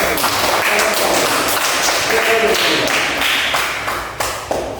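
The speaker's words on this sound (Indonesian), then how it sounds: "Tepuk tangan untuk kelompok" Students in a classroom clap for a presenting group, a close, loud patter of many hands with some sharp taps, easing off near the end.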